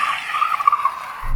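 Tires on a Tesla Cybertruck squeal loudly and steadily as it launches from a standstill, a sustained high-pitched screech lasting over a second before cutting to a low rumble.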